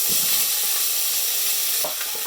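Diced potatoes and meat fry loudly in a pan, a dense, bright sizzling hiss filling the whole moment, with a couple of soft stirring scrapes near the end.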